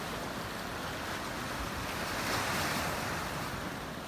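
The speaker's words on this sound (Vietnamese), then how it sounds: "biển Địa Trung Hải." Mediterranean Sea waves wash continuously onto the shore at Caesarea, Israel, a broad, steady surf roar with some wind buffeting the microphone and no voices.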